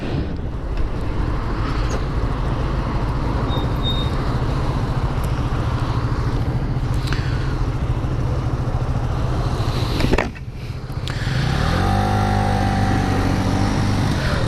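A Lexmoto Venom 125 motorcycle ridden on the road, its small engine droning steadily under heavy wind rush, with a brief dip near the end before the engine note climbs again.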